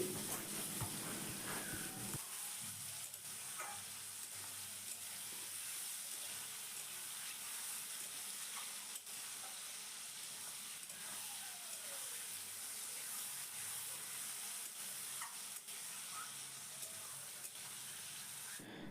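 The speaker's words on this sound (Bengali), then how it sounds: "টমেটোটাকে আলুর সাথে আবারও কিছুক্ষণ আমি ভেজে নেব" Potato and tomato pieces fry in a pan for an eggplant masala, giving a steady soft sizzle with occasional faint stirring clicks throughout.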